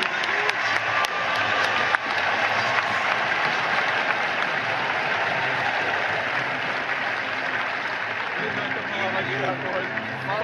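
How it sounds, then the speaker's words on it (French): Stadium crowd applauding the men's high jump winner at the Herculis Diamond League meet at Stade Louis II in Monaco, a broad steady roar of clapping with crowd murmur and an announcer's voice under it. "Vous pouvez l'applaudir."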